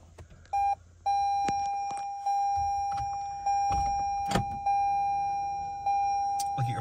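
A 2021 Toyota RAV4 Hybrid XLE AWD starting up, a steady electronic tone with a series of clear, repeated chimes and beeps at close range, with faint clicks and rustles between them.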